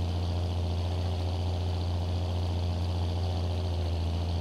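A tractor engine idles steadily in Farming Simulator 22, a constant low droning hum with no other sounds over it.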